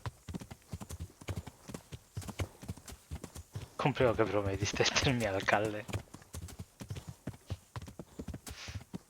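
Horse hooves clip-clop steadily in the Kingdom Come: Deliverance video game, a continuous rhythmic trot running under Spanish-speaking talk and game dialogue throughout.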